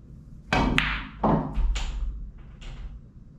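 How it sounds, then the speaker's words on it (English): A pool cue ball striking an object ball on a stop shot, with a sharp close click and several knocks and thuds following as balls hit the rails and the pocket, fairly loud and alone. "So I did have a good stop shot."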